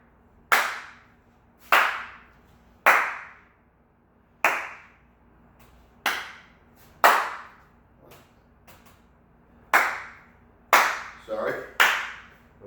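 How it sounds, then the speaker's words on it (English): Hand claps led during a PE class, about a dozen sharp, loud single claps spaced roughly a second apart, close and dry, with a couple of quicker doubled claps near the end. "Clap with me."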